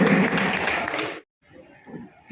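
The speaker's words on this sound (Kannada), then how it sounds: "ಜೋರಾದ ಚಪ್ಪಾಳೆ" An audience at a Jai Bhim Gharjane Samiti event in Karnataka bursts into loud clapping, a dense wash that cuts off abruptly, followed by faint scattered claps and murmuring.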